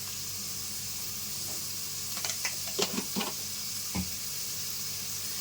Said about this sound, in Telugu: వీటిని బాగా వేయించుకోవాలండి. మంచి కలర్ వచ్చేంత వరకు వేయించుకోవాలి.